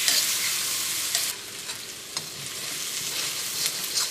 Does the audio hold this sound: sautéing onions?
yes